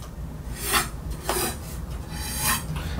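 A cello bow drags across a string with a gritty, rosin-rough rasp, repeated in three distinct strokes that swell and fade over steady low body resonance, close and fairly loud with no voices.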